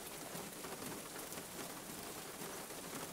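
Steady rain falls outside a converted bus home on a grassy spot, a soft, even hiss of drops with no pauses, no voices.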